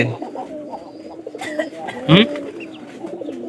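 A pigeon being released outdoors gives a brief coo in the middle, standing out from steady background noise and softer scattered sounds.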